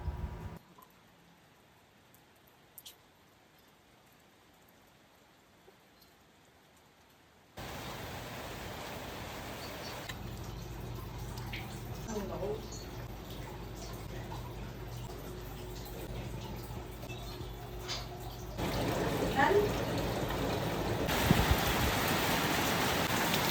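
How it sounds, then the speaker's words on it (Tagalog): Steady rain hisses down, quiet at first, then a sudden loud downpour roars in and builds heavier toward the end, with no voices. "At bumuhos na nga dito ang ulan."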